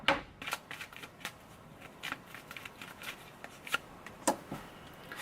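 A deck of tarot cards is shuffled and cards are pulled, producing a quiet run of close, crisp riffling flicks and soft slaps at an uneven rhythm.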